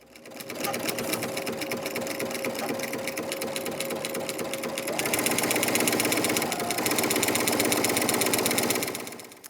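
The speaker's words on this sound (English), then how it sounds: "we're going to just sew down that long edge with a 1/4 inch seam" Sewing machine running a quarter-inch seam along the long edge of a quilt hanging tab, a close, loud, continuous rapid needle rattle that shifts pitch midway and stops at the end.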